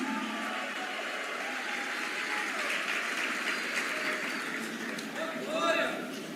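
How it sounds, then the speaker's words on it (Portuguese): A church congregation applauds during a sermon, a soft, steady patter of clapping at moderate distance that swells slightly near the end. "Dê um aplauso, louve a Jesus."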